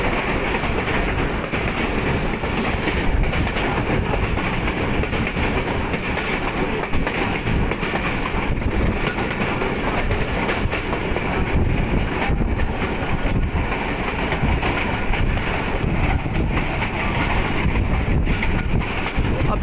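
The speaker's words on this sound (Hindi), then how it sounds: "चेकिंग साउंड है GMC U15 का, क्योंकि लोकोमोटिव के साथ ही जो कोच है" A GMC U15 locomotive hauls the 6DN PDK shuttle train along the Malakwal to PDK line, heard from the first coach as a steady, loud rumble with clattering wheels and wind, continuous and without talk.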